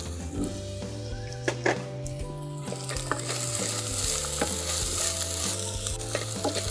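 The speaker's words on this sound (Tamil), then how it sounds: "வெங்காயம் நல்லா வந்து வதங்கிடுச்சு." Onions sautéing in a pan for a drumstick-leaf curry, a steady sizzle with repeated stirring scrapes of a utensil against the pan, close and continuous, with a low hum underneath throughout.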